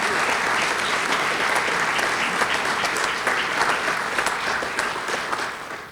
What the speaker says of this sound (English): So we could give them a round of applause.